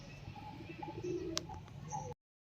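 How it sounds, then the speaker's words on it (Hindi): Pigeons coo softly inside an ancient Shiva temple, with low murmuring coos and a few faint chirps against a steady ambient hum, ending abruptly. "यहाँ कबूतर मन हमेशा रहते मंदिर में। आप देख गुटर गुक करत है"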